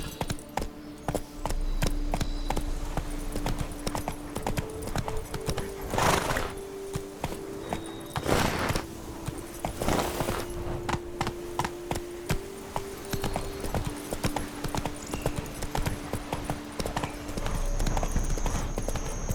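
Horse Roach trots in The Witcher 3, with steady, close clip-clop hoofbeats running throughout and brief whinnies mixed in over a constant game ambience.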